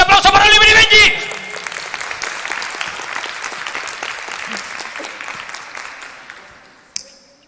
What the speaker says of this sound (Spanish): Señoras, señores, un fuerte aplauso para Oliver y Benji.